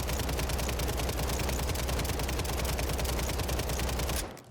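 Rapid automatic gunfire from the WSP 9 submachine gun in a video game, a dense, steady stream of sharp shots for about four seconds that stops abruptly near the end, loud and alone.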